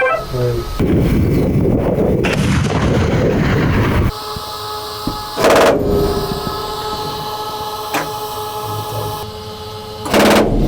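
Several loud, booming cannon shots from a Marder infantry fighting vehicle ring out with long ringing decay, separated by seconds of heavy mechanical rumble and faint voices in the background.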